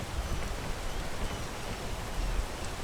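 Rain falls steadily in a video game, a soft, even patter of drops on surfaces with a low rumbling undertone, continuous and moderately quiet with no talking.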